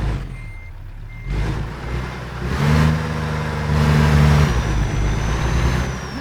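A truck in American Truck Simulator heard from outside the cab, its engine droning loudly and rising as it revs, with a steady reversing beep pulsing over it.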